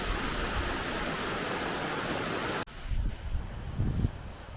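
An Icelandic waterfall gives a steady, broad rushing roar, heard from a height, which cuts abruptly to gusty wind buffeting the microphone.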